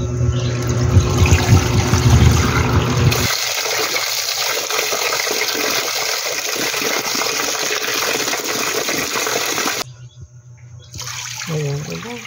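Glutinous rice is rinsed in water for a Valenciana rice dish: close, continuous splashing and running water that briefly drops out near the end before resuming.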